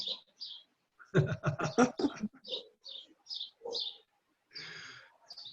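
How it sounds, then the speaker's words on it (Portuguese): A small bird sings close by in a series of short chirps and trilled phrases, including one dense rapid burst, with gaps between calls. "Tem um passarinho que está vencendo a gente aí."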